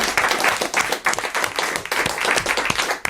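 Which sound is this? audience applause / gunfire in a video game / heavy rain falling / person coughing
audience applause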